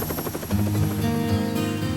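A helicopter flies over the island of Maui, its rotor beating in a fast rhythmic chop that swells and grows heavier and closer partway through, loud and alone.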